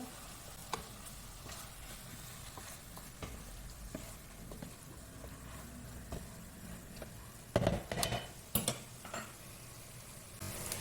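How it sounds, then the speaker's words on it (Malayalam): Chicken curry being stirred in a pan, with a soft steady sizzle underneath and scattered scrapes and taps of a spoon, growing louder in a cluster of knocks toward the end. "നല്ലോണം മിക്സ് ആക്കുക"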